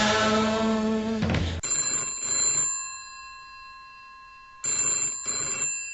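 An old-style telephone bell ringing in two bursts separated by a pause, sharp metallic trills ringing out clearly after a short stretch of music at the start.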